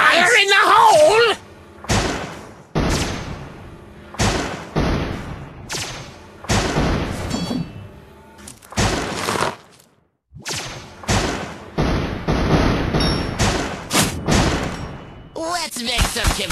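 Video game explosions and bomb blasts go off as a rapid run of loud, sharp bangs and thuds, one after another, with brief gaps, over a talking player.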